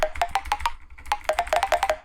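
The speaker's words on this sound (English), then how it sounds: "A very clicky percussion," A clicky percussion sample used as a pluck in an electronic track plays as a quick run of sharp, bright pitched clicks in an uneven rhythm, close and alone.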